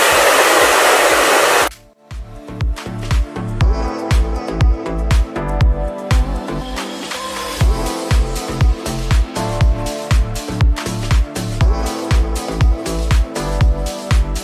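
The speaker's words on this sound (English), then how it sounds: "I'm just gonna blow dry my hair right now." A handheld blow dryer drying hair roars loudly and steadily for under two seconds at the start, then cuts off and gives way to rhythmic background music with a steady beat for the rest of the clip.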